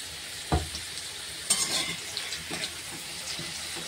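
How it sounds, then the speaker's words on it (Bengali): Potatoes fry in a pan with lemon juice and turmeric, giving a steady close sizzle with a few sharp clinks and stirring scrapes of a utensil against the pan. "আলুগুলো ভাজা হয়ে গেছে।"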